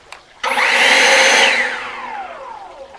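An electric leaf blower starts up with a loud whirring roar and high whine, holds briefly, then spins down and fades.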